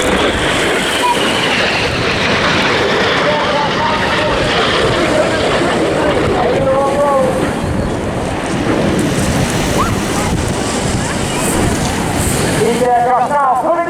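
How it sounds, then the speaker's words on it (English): RAF Red Arrows jets fly at the Eastbourne Airshow, a loud continuous roar of jet engines filling the whole stretch, with a commentator talking over it. "These aircraft now pulling off to mirror each other at 5G."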